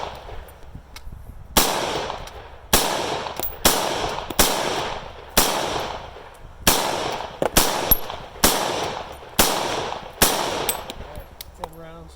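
East German AK rifle firing at old turkey meat, about a dozen sharp, loud shots in a loosely spaced sequence, each with a ringing tail.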